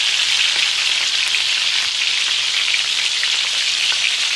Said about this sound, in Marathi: आता सर्व शंकरपाळी तेल घालून घेणार आहे